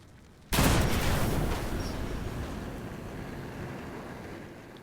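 A single sharp anti-tank rifle shot fired at tanks in a video game, a sudden loud blast followed by a long fading rumble and hiss, heard alone with no talking.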